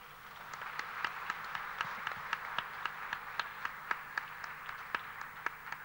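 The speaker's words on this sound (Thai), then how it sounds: "ขอเสียงปรบมือต้อนรับคุณครูสนอหลวงสุนทรครับ" Audience clapping to welcome a Thai ranat ek (xylophone) teacher, a retired army band officer, at a 2001 event: steady, moderately close applause with sharp individual claps standing out in a loose rhythm, no voices over it.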